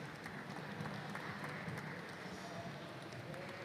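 A museum audience applauds a finished glass piece at a hot shop glassblowing demonstration, with steady, moderately distant clapping that carries evenly throughout.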